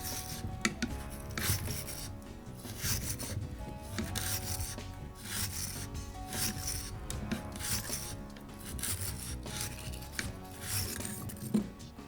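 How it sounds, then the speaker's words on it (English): A chamber brush twisted inside the chamber of a rifle upper receiver gives close, quiet, repeated scrubbing and rubbing with small metallic scrapes, continuing in uneven strokes throughout. "we'll insert our chamber brush all the way into the chamber here. And just give that a few turns there."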